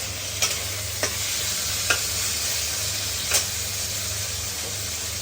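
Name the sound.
beans, carrots and capsicum frying in a pan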